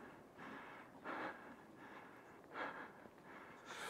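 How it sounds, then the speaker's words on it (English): Heavy, laboured breathing after a hike on a trail in Wyoming's Wind River Range, with several deep, rhythmic gasping breaths up close and quiet overall. "Sorry for the heavy breathing ruining your nature show."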